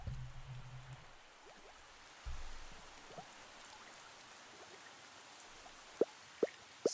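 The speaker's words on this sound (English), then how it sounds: "It's starting to rain." Rain falls steadily with a soft hiss in the Stella Sora video game, low rumbling at the start and a few sharp drips or clicks near the end.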